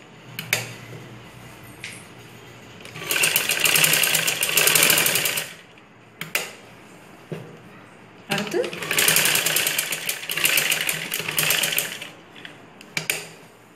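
Sewing machine stitching a ladies' blouse, running in two long bursts of steady whirring with short stops and clicks between them, alongside speech.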